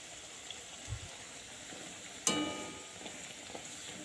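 A ripe-mango and semolina sweet fries in hot oil with a soft, steady sizzle, interrupted by one sharp clink of a utensil partway through and a few light taps.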